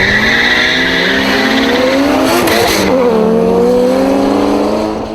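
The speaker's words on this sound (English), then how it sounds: "the Supra winds up and hunts down the Bluebird, giving Brian his first defeat" A Toyota Supra race car in a street race drives hard, its engine note climbing steadily through long loud revs, with a brief burst of tire noise midway and the sound easing off at the very end.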